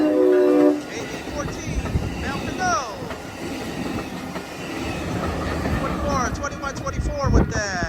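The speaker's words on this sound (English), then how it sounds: "here comes Amtrak Capital Corridor train 736" An Amtrak Capital Corridor passenger train, number 736, passing near Eckley Pier by Crockett, California, with a loud steady rumble of wheels on rails, squealing tones and a horn-like blast near the end.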